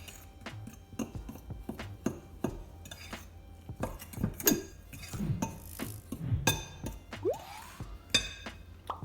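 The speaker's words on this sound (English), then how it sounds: "now I'm going to mix all the ingredients together, making sure that all the ingredients are fully" Jamaican festival dumpling ingredients being mixed in a bowl, with quick irregular clinks and knocks of a utensil against the bowl, fairly close and moderately quiet.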